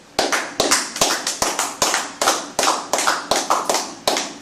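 A church congregation claps in a worship service, loud sharp claps in a quick, slightly uneven rhythm, roughly a dozen strikes over a few seconds with no talking.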